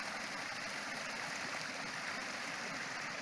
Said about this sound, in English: All this water is coming down.